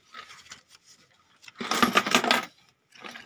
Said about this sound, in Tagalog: So, ito po yung barya natin natira.